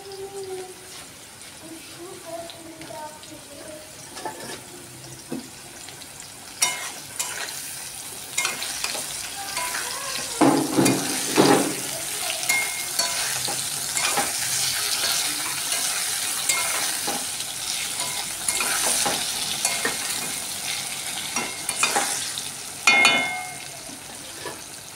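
Eggplant pieces go into a pan of lightly fried potatoes, setting off a steady sizzle with scraping stirs and occasional clatter, close and moderately loud, growing busier partway through.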